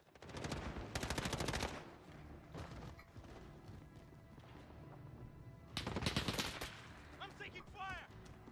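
Video game gunfire in rapid automatic bursts, loud bands of shots near the start and again midway with lighter fire between, under a player's voice talking over the action.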